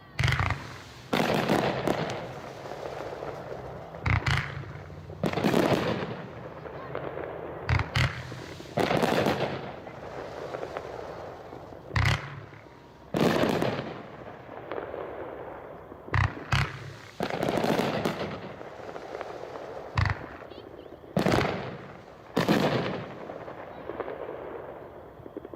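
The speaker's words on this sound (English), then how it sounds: "Now we have Crimson Skies. 24-shot, 500-gram, case packing 4/1." A 24-shot, 500-gram Crimson Skies firework fan cake fires outdoors, each shot a sharp thump followed by crackling bursts, spaced irregularly over the whole stretch and heard from a moderate distance.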